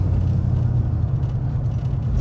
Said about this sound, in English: we are out in the truck and we're running down the street, and we're doing about 40 miles an hour